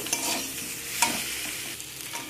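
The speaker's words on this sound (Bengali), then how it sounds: "মশলা দিয়ে ভালো করে সব কিছুকে নাড়াচাড়া করে নেব" Small mourola fish with ground mustard paste and green tomato are stirred in a pan, producing a continuous close sizzle with quick scraping strokes and no voices.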